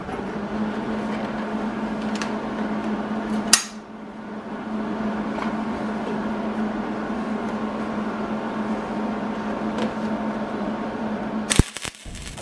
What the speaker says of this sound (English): So we're going to go ahead and get this thing welded on here.